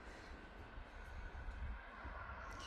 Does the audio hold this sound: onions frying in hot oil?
no